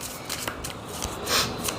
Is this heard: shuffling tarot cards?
yes